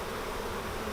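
Around forty thousand honey bees hum together in a steady, dense drone as they are moved into a new hive.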